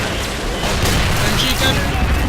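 A flak gun fires in the World War II strategy game Men of War Assault Squad 2, its dense booming bursts and crackling shots running under loud battle noise without a break.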